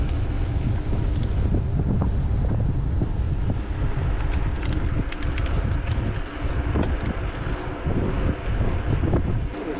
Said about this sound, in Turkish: iyi rüzgar varmış. Gelirken bu kadar rüzgar yoktu.